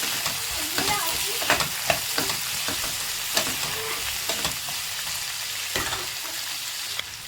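Sliced tomatoes with coriander and mint leaves frying together in a pan, a steady sizzle broken by repeated scraping stirs and clinks of a spoon, close and fairly loud.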